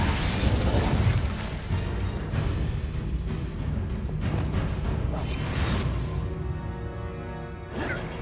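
An Incendio fire spell in a Harry Potter game flares up in loud booming bursts and crashing combat effects, then fades into a ringing shimmer, with a sharp pop near the end.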